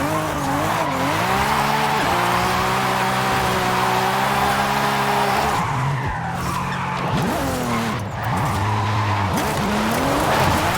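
A 2019 Corvette ZR1 C7 drifts in Forza Horizon 5, its engine roaring loudly and continuously while tires squeal and skid through long slides in the second half.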